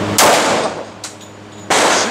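A 1911 pistol fired at an outdoor shooting range: two loud, sharp shots about a second and a half apart, each with a brief ringing echo, and a fainter metallic clink between them.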